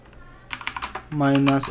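Computer keyboard typing a pip install command, a quick run of close key clicks followed by a brief tonal sound.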